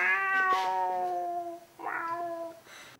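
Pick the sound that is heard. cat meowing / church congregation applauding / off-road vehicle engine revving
cat meowing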